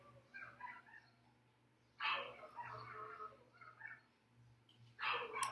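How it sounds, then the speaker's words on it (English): A dog whines softly, with intermittent whimpers and yips recurring in short bursts against a quiet background hum. "this dog is enough. He's still whining."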